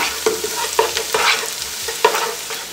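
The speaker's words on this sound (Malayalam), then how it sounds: "ഇനി നമുക്ക് സവാള, അരിഞ്ഞു വെച്ച സവാള വഴറ്റണം" Sliced onions sauté in a pan for Kerala-style Mughal chicken biryani. A steady close sizzle runs under repeated scraping stirs from a spoon, with no talking.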